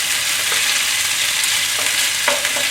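Marinated ginger-garlic beef stir-fried over high heat and tossed with two spatulas, a loud dense sizzle with quick metallic scrapes and clacks scattered throughout.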